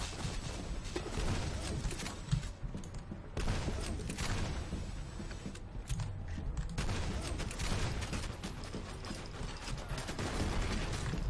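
Gunfire in the shooter F.E.A.R. Perseus Mandate, scattered bursts and single shots over a steady game ambience, moderately loud, with brief lulls between volleys.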